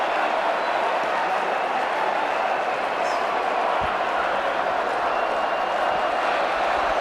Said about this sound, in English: That's got the crowd going.